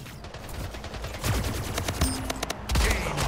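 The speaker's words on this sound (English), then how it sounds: "I still have an assault rifle." Rapid bursts of assault rifle fire in a gun game video game, several quick volleys of sharp shots over about three seconds at moderate loudness, with no talking.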